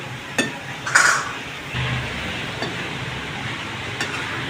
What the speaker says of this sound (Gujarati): આ રીતનું બધો મસાલો મિક્સિંગ કરી દેશું. બધી ગોળીમાં બરાબર રીતે મસાલો આવી જવો જોઈએ.